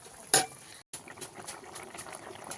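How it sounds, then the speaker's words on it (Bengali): Fish curry with fried fish, potatoes and ground roasted cumin boiling in a covered pan, a steady close bubbling simmer with one sharp burst near the start and a brief drop to silence. "ঝোল ফুটে উঠেছে"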